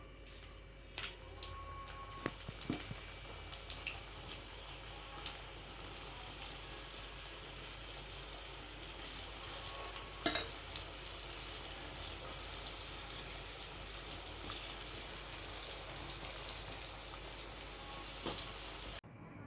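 Batch of palak pakoda, spinach and potato fritters, sizzling in hot oil, a steady soft crackle and hiss throughout with a few sharper pops, close and alone without talk.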